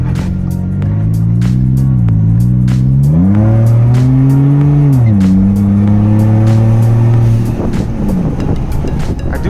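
A Ford F150 with an eBay exhaust and open cutoff valve accelerates hard at wide open throttle. The loud, close engine drone climbs in pitch through several gear changes, then fades out near the end under wind noise.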